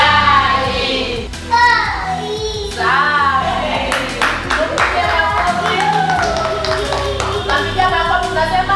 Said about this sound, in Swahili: Tunapiga makofi